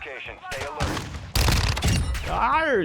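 Bursts of automatic gunfire in Call of Duty DMZ, loud and close, in a fusillade starting after a second, with a voice speaking between and over the shots.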